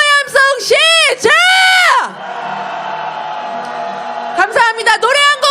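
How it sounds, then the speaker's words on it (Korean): A street protest crowd at a candlelight march calling for President Yoon Suk-yeol's impeachment lets out a sustained, angry roar lasting about two seconds. A loud amplified voice shouts just before and right after it. "분노의 함성 시작!"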